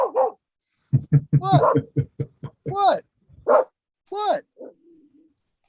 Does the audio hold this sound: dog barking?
yes